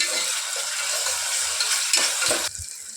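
Thin-sliced tomato fries in a hot pan with a dense, steady close sizzle, a couple of soft utensil scrapes, and the sizzle dropping in level near the end.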